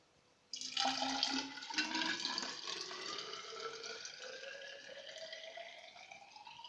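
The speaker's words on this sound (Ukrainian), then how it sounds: "заливаємо нашу воду до позначки 30 сантиметрів" Water pours steadily into a glass cylinder up to a 30 cm mark, a bright splashing rush whose pitch slowly rises as it fills, close by with no talk.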